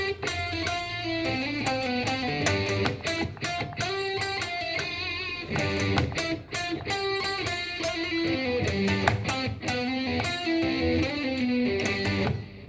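Guitar riff in G Mixolydian mode, a dense, continuous run of bright, sustained notes with rich overtones through an effects unit, loud and close with no voices.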